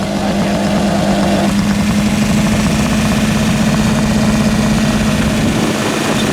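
A Fiat Panda car engine runs steadily at close range with a constant low hum, and a higher tone drops away after the first second and a half.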